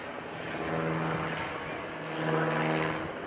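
A tiny propeller aeroplane flies an airshow display fairly close by, its engine droning steadily and swelling again as it passes, with someone talking over it.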